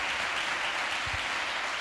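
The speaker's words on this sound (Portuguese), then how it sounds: "uma salva de palmas para os policiais" Audience applauding police officers at a Christian talk on politics, a brief dense burst of many hands clapping at once, loud and unbroken for about two seconds.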